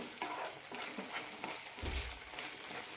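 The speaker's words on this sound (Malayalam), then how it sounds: "നന്നായി മിക്സ് ചെയ്യാം" Tomato pickle masala with Kashmiri chilli powder is stirred in a hot pan, a close, steady sizzle broken by soft rhythmic scraping strokes of the spoon.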